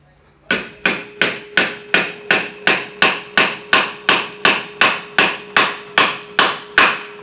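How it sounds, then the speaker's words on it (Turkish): Steady series of about fifteen evenly spaced metallic hammer blows drive a Honda Spacy scooter transmission gear into place through a socket, each strike sharp and ringing, close and loud, with no talk. "Ondan sonra üzerine vurmamız gerekiyor."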